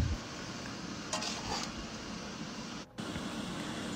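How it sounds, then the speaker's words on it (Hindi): Pickled cauliflower, carrot and turnip are mixed by hand in a wok, giving a soft, steady rustling and gentle sizzle with a brief scraping burst. "अभी आके दोनों हाथ से मिक्स कर लूँ ज़रा कढ़ाई पकड़ के अच्छे से ना"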